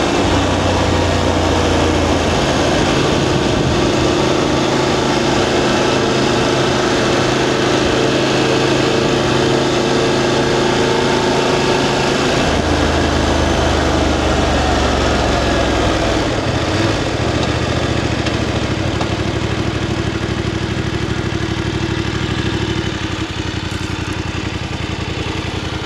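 A VOGE DSX 900 motorcycle engine running steadily in fifth gear on a road ride, a loud continuous drone that changes pitch partway through as the bike shifts, with no talking.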